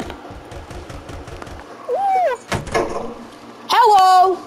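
A door in the Carrot Nightmare video game, heard as a few creaks and mechanical thumps amid game sounds and sharp tonal effects, with a voice talking over it.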